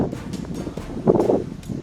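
Strong storm wind gusts roar and buffet in Texas, a steady close rush with swelling surges and rustling, loud and continuous with no talking.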